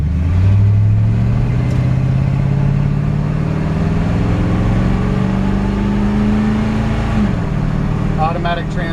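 A 1955 Ford F100 hot rod pickup with a 350 V8 and an automatic transmission pulls away, its engine climbing in a long, loud rising drone before easing off near the end, with a speaking voice underneath.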